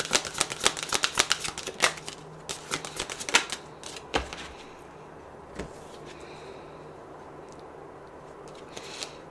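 Oracle cards are shuffled and drawn, a close run of quick crisp riffling snaps and flicks that thins out into occasional single taps and slides, with no voice.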